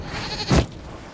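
A single short goat bleat in the Dragon Age video game, loud and close, lasting about a split second over quiet background.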